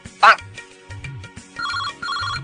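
A telephone rings in repeated electronic trills, with a voice speaking over the start.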